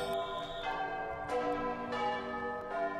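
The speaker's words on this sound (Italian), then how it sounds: "nuovamente si suonano le campane, questa volta per dare alla città degli uomini l'annuncio della risurrezione di Cristo" Church bells ring out for the Gloria of the Easter Vigil, rich sustained peals with repeated strikes layered over a resonant, lingering hum, loud and continuous throughout.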